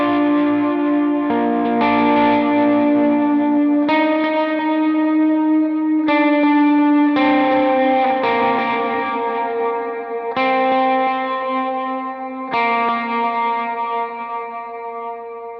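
Overdriven electric lead guitar with audible delay repeats plays a slow, sustained melodic line of held notes in a lead guitar arrangement of a hymn, loud and continuous with no talking.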